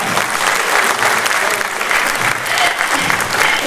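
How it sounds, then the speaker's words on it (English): The audience at the FOSSASIA open-source summit opening address gives a thick, steady round of applause, loud and sustained, with a few voices faintly audible within it. "I think it would be nicer if we can give people a little bit of clap"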